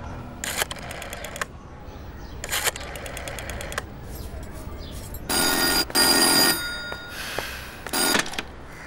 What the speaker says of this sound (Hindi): फोन करना है आंटी जेनी को।